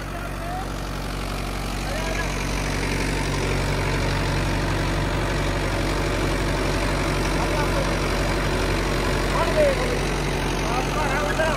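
A Yuvo 585 MAT tractor running with an 8 ft rotavator, lever fully down, gives a steady low diesel rumble throughout, close and continuous, with people talking over it.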